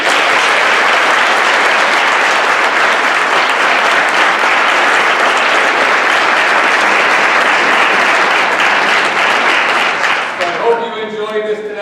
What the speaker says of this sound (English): and a great round of applause for those.